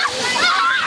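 Children splash while bathing in a murky stream running through a village, a brief close burst of water sloshing and splattering with high excited voices over it.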